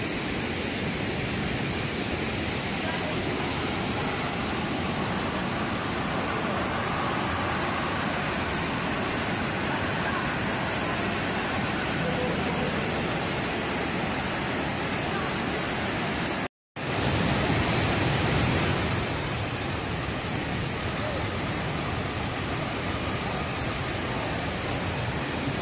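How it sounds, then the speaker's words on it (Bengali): Dassam Falls near Ranchi, water dropping from 144 feet, makes a loud, constant broadband roar that stays steady throughout, broken only by one brief dropout, with no talking. "জলের স্রোত 144 ফুট ওপর থেকে জল পড়ছে"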